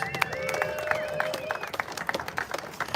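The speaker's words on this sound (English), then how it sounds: "A round of applause for the Great Midwest Ribfest." Crowd applause at an outdoor Great Midwest Ribfest, scattered claps and cheers mixed with background voices and a lingering tonal hum, moderately loud and steady for a few seconds.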